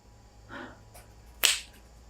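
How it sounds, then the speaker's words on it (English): A single sharp hand clap lands near the end, preceded by a softer brief rustle, in a quiet room with no talking. "I'm going to clap my hands"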